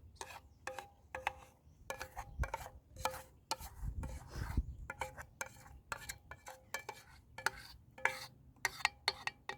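Homemade soap batter is scooped into a mold with a utensil, giving repeated close scraping and tapping sounds against the container, irregular and fairly quiet, with no talking.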